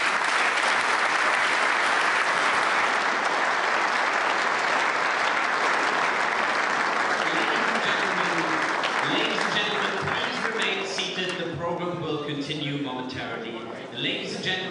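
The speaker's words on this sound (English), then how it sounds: "Let's give him a round of applause." Sustained audience applause in a large hall after the opening speech at the 62nd Munich Security Conference, loud and steady at first, then thinning out into scattered clapping.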